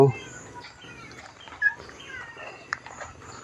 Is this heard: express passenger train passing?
no